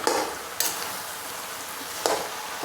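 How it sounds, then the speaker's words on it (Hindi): Vegetables and spices stir-fry in a pan, giving a steady background sizzle punctuated by a few brisk scraping strokes of a spatula mixing the masala. "सब चीज़ों को अच्छे से फ्राई करेंगे, इस तरह से मसाले को मिलाते हुए।"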